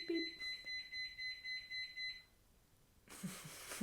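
An electronic alarm beeps in a quick, regular string of high tones for about two seconds, then stops, and a voice briefly speaks afterward.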